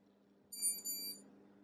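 A dog training e-collar in beep mode gives a single short, high electronic beep over a low background hum, then stops.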